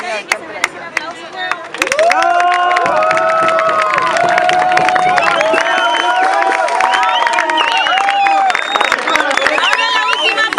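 Crowd at a street parade in Playa Ancha cheering and clapping, with shouts and whistles rising into a loud, sustained roar of applause after a quieter opening.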